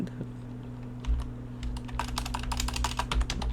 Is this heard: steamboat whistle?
no